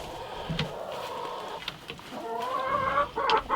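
Backyard chickens in Alaska in spring, clucking and squawking up close in short irregular bursts, with a few sharper calls near the end and no talking.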